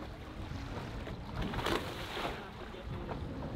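A sailboat moves along at sea at about four to five knots, with a steady wash of water and wind rushing past and a brief louder swell partway through.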